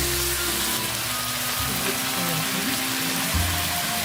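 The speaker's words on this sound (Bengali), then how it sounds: "সরষাটাকে আস্তে আস্তে করে সুন্দর করে ফ্রাই করে নিতে হবে" Mustard paste with turmeric, salt and chili frying in hot oil in a pan, giving a steady, dense sizzle throughout with a low background hum and no talking.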